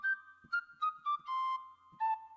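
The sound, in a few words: flute sound like a child's toy piano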